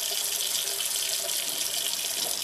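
Hot tap water runs steadily from a faucet over a bottle of solidified monoi oil, a continuous close splashing hiss with no talk.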